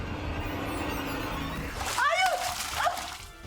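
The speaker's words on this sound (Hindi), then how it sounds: "तो स्लिप होके पानी में गिर गई।" A person slips and falls into water, making a sharp splash with sloshing and spray after a stretch of background noise, with a voice crying out briefly near the end.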